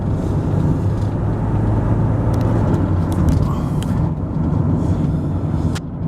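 A vehicle engine runs steadily at medium throttle, a loud continuous low rumble and drone with faint higher whirs, holding an even level throughout.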